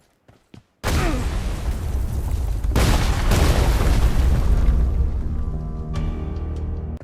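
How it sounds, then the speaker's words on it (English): Loud bombing in the PUBG Mobile Karakin red zone, where random buildings are targeted and destroyed: after a couple of soft knocks, a sudden heavy boom opens into a long roaring blast and rumble, with a second impact midway, then the noise fades into debris and ringing. "In Karakin, the red zone acts a little different. The buildings themselves are targeted and random buildings get destroyed."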